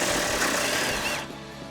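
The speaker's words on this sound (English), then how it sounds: "There's just enough room for me to get my impact gun in though, and that's what we're gonna do here." An impact gun with a 10mm swivel socket rattles loudly in one sustained burst while removing bolts on a 2013-2018 RAM 1500 front bumper cover, then stops abruptly.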